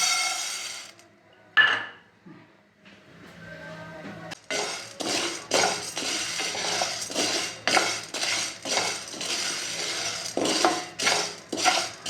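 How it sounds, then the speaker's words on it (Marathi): Sago pearls (sabudana) dry-roasting in a hot pan, a dense run of close clinks and scraping strokes as a utensil stirs them, coming in steady repeated bursts after a quieter start. "आता यात मी साबुदाणे भाजून घेते"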